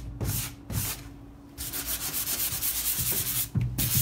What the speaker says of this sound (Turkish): Kağıt zımpara, kalın bir kağıt zımparayla.